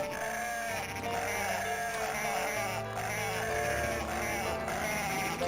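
Sheep bleat from the Dreamcast game Cool Herders, with game music and sound effects playing constantly underneath for the whole stretch.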